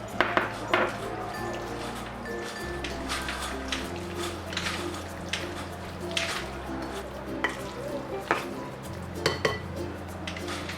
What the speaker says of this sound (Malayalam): ബീഫിലേക്ക് ഈ മിക്സ് ചെയ്ത് വെച്ചിരിക്കുന്ന പൊടികൾ ഒഴിച്ച് നല്ലതുപോലെ ഇത് മിക്സ് ചെയ്തെടുക്കാം.